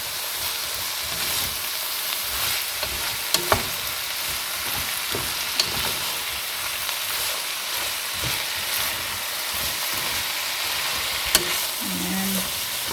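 Lumpia sizzle and crackle in hot oil as they are stirred in the pan, a steady close frying hiss broken by a few sharp clinks of the utensil.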